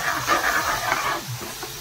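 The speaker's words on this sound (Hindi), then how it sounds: "अभी तड़का लग रहा है दाल को" Tadka tempering sizzles for chana dal, a steady broad hiss of hot oil and spices in a pan, close and continuous, easing slightly toward the end.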